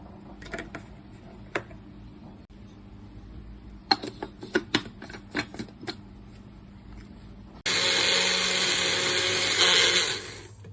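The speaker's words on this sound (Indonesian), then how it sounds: "Jadi ini aku blendernya separuh-separuh dulu ya, karena blenderku tuh kecil banget." A small kitchen blender grinds Indonesian spice paste with oil, starting with a run of sharp clicks and short pulses, then settling into a steady, loud whirring motor hum for about three seconds before cutting off.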